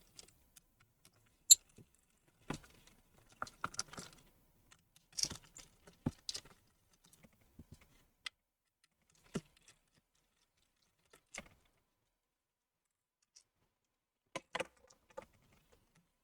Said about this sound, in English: Go ahead and remove the screws.